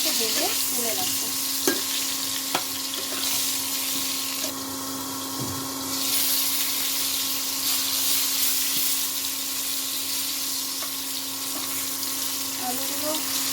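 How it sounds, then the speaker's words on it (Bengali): Potato pieces fry in hot oil with salt and turmeric for a mutton curry, a steady close sizzle with occasional stirring scrapes and a soft voice now and then. "আলুগুলো হালকা ভাজা হয়ে গেছে, আরেকটু ভেজে নিতে হবে।"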